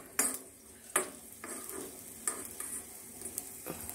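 Asafoetida roasting in oil in a pan, a soft steady sizzle with a few sharp clinks of a spoon or utensil against the pan at irregular moments.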